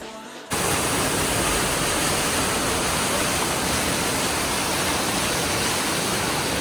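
Kimadi waterfall near Dehradun roars as a steady, loud, broadband rush of falling water that begins abruptly after a brief quiet moment and continues unbroken.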